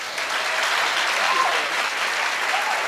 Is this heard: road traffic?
no